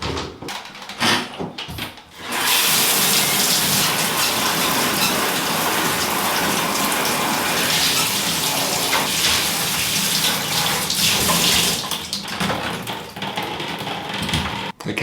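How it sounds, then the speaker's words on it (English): Shower water pouring onto waterproof barefoot boots, a steady loud gushing hiss that starts after a couple of seconds of handling noise and runs for about ten seconds before tapering with some rustling. "I'm going to shower, and if the socks are still dry"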